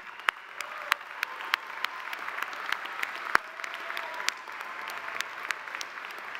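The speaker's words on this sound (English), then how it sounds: "Congratulations, graduates. Give you a round of applause." A large crowd at a university undergraduate commencement applauds the graduating class. The clapping is a distant, steady wash, with occasional sharper claps closer by.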